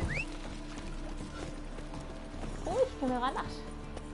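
A horse gallops in The Witcher 3, its rapid rhythmic clip-clop of hooves running steadily throughout, ending in a whinny, with someone talking over it.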